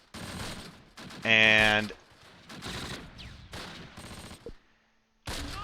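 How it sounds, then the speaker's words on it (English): Gunfire from the Close Combat Last Stand Arnhem war game, a loud burst of rapid shots in the middle of the clip, with game sounds and someone talking before and after. "Maybe it was just a cannon that I can hear."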